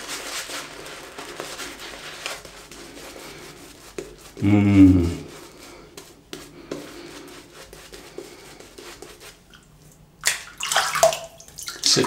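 The tips of a Riva shaving brush are dipped into water, making a short, close splash and slosh, with soft rubbing and some talking around it.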